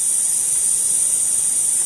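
An airbrush sprays paint in a continuous, loud, close hiss lasting about two seconds, steady and unbroken, with no voices over it.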